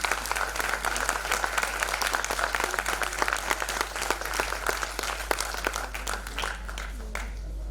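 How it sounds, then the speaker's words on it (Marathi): An audience at a Maharashtra Ratna award ceremony in Pune applauds a guest with steady, sustained clapping that carries on for several seconds and then fades away at the end, under a low background hum. "आपल्या गेस्टसाठी जोरदार टाळ्या वाजवूया"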